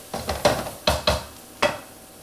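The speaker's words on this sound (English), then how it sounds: "So give them a quick stir, check that they're doing the right thing." A spoon stirs sautéing mushrooms in a pan, giving six distinct clattering scrapes in an uneven rhythm over a soft sizzle, close and fairly loud with no voices.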